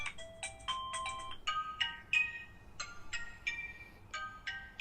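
Music plays through the bottom-firing speaker of a Redmi K20 Pro phone: a bright, tinny melody of plucked or bell-like notes in quick phrases, heard alone at moderate level with a thin low end.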